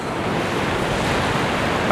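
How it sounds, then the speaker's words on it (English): Ocean surf on a Kauai beach makes a steady, dense wash of breaking waves with no gaps, close and fairly loud, mixed with light wind. "the waves look okay, they look okay"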